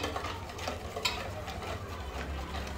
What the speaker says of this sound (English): And then you start whisking